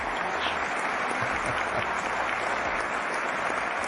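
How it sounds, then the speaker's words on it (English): A crowd applauds steadily and loudly throughout, dense clapping with no pauses. "Ladies and gentlemen, an applause for Timmy Thumb and Icebird"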